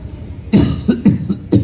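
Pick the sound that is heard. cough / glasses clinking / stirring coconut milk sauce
cough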